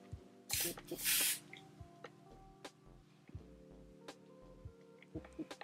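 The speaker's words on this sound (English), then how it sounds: "Spray glue, whatever you want to call it." Spray glue hisses from a can in two short close bursts while a wig is being installed, followed by quieter handling sounds and faint background tones.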